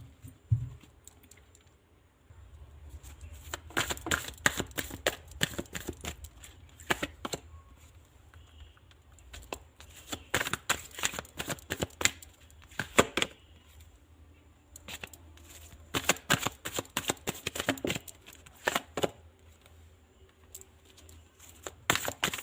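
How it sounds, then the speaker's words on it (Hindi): Tarot-style cards are shuffled and drawn one by one for a reading, making repeated close bursts of crisp flicking and riffling in irregular clusters with quiet gaps between them. "तो सबसे पहले मैं आप लोगों के लिए सभी कार्ड निकाल लेती हूँ"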